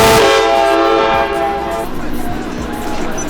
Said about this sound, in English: That's Nathan Air Chime KLA 5 train horns.